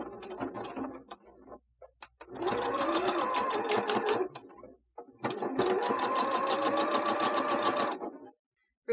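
Sewing machine top stitching a fabric face mask 1/8 inch from the edge, running in three steady close bursts of rapid stitching with short pauses between them.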